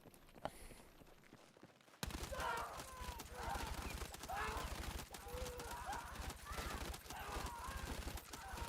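Rapid automatic gunfire in the video game Battlefield 6, a steady drumming burst that starts abruptly after a quieter opening and keeps going loud, with a voice talking over it.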